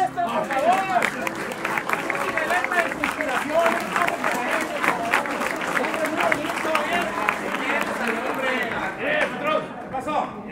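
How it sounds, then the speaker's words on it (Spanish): An audience applauds for teachers at a theatre performance, a mass of clapping with crowd murmur and voices mixed in, steady for several seconds. "Un aplauso aquí para los maestros, por favor."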